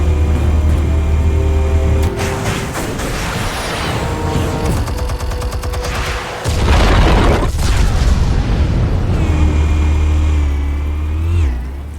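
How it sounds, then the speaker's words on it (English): Explosives detonating in the Batman Telltale Series video game, heavy booming blasts layered with crackling bursts and rumbling debris, loud and dense throughout with a fresh deep impact midway. "Explosives armed. Fire when ready."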